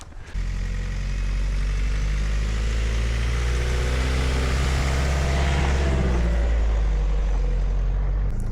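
A car on a road trip in France strains as it accelerates up a slope out of a car park, its close engine drone steady and loud for several seconds with no talk.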